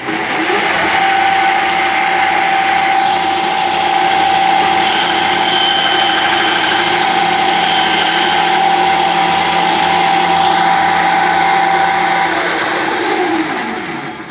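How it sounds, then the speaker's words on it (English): An Ozito bandsaw runs steadily for about fourteen seconds with a constant motor whine and a sustained tone, its blade cutting through material, loud and close with no talking. "the bandsaw can now cut and it works fine"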